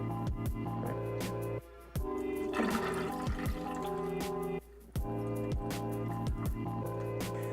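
Rinse water poured off rice in a pot in a small home kitchen, with intermittent dripping and splashing trickles over steady low background hum, fairly close and moderately quiet, no talking.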